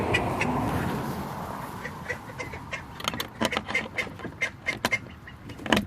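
Call ducks quack in a loud, close run of short repeated bursts that grow busier toward the end, following a brief stretch of rushing background noise.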